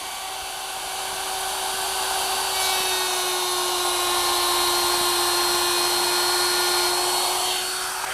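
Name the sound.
router cutting a groove in wood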